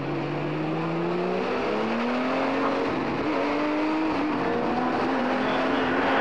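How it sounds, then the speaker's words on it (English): Porsche 934 race cars roar into turn 11 at a vintage motorsports reunion, a loud continuous engine drone with pitch shifting as the field rolls through, close and unbroken. "Field coming down into turn 11 now."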